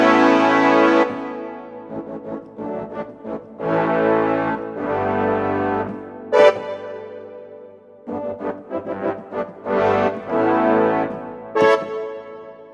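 Yamaha Genos 2 keyboard on a full orchestral concert tutti voice with heavy cathedral-style reverb, playing loud sustained chords and quicker runs in bursts, each phrase trailing off into a long spacious reverb tail.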